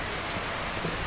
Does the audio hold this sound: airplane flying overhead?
no